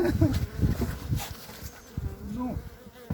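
Honey bees buzz close by at a hive during an early spring inspection, a busy droning hum that rises and wavers as individual insects pass near.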